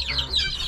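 On a farm, chickens and a rooster give a short burst of close clucking, a brief cluster of clucks with no talking.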